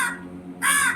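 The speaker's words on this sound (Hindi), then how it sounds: "जैसा लग रहा है कि कौवा उसे कोई बात बता रहा है" A crow caws loudly near a sunny balcony at midday, two harsh calls close to the microphone with a short gap between them and no talking.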